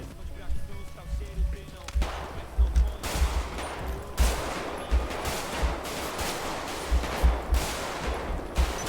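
Bursts of gunfire in the video game GTA V roleplay crack out in rapid clusters and single shots, loud and repeated across the stretch, with players talking over voice chat between volleys.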